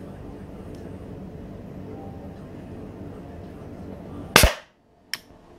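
A Umarex Glock 17 Gen 5 T4E .43 caliber training pistol fires a single sharp, loud shot that cuts through low background noise, followed by a fainter click moments later.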